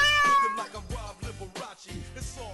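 Cat meows played on a radio sports talk show, several drawn-out plaintive meows in quick succession, clear and close.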